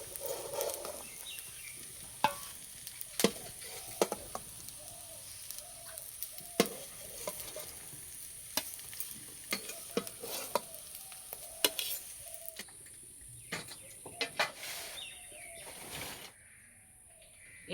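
Gram flour fritters wrapped in pumpkin leaves fry in hot oil with a soft, steady sizzle. Scattered sharp clicks and taps come from stirring and turning, and faint birdsong sounds in the background. No one speaks.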